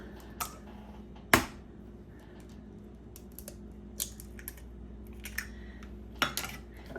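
Farm-fresh eggs being stirred and beaten into a homemade yeast roll mix, heard as a few scattered, fairly soft clinks and taps of a utensil against the bowl, with quiet pauses between and no talking.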